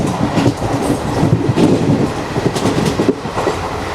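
The 22136 Renigunta–Mysuru weekly superfast express runs through Nagari railway station without stopping, at about 110 km/h. A loud, steady rumble carries rhythmic wheel clatter throughout.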